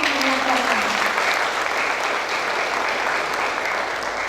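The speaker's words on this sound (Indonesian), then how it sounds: "Tepuk tangan untuk menyampaikan." Sustained applause from a large audience at a nursing diploma graduation and oath ceremony, a dense steady wash of many hands clapping that holds at an even level throughout.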